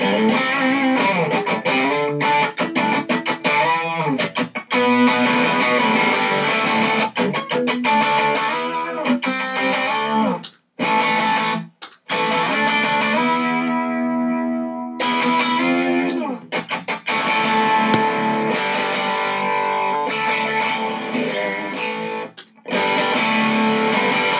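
Electric guitar through a Juggy boost pedal stacked with an overdrive pedal, a thick boosted tone playing sustained chords and riffs, loud and continuous with a few brief pauses, no talking.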